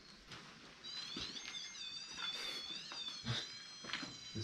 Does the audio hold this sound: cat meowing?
yes